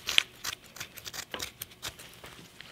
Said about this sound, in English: cut that here with some sharp scissors